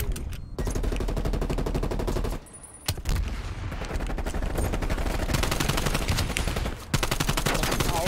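Rapid automatic gunfire from Call of Duty Black Ops Cold War multiplayer, dense bursts of shots nearly nonstop with two brief pauses, loud and close.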